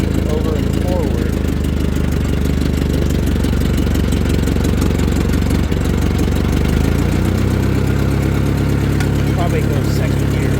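A 1953 Ford Golden Jubilee tractor engine running after a cold start with a little choke, a loud, close, steady chugging idle that fills the whole clip without a break.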